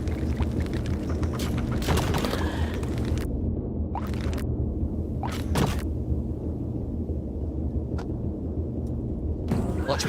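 Booming blasts from bombs in the island-defense strategy game Bad North, several heavy thuds rolling over a dense battle din of clashing troops, with someone talking excitedly in the background.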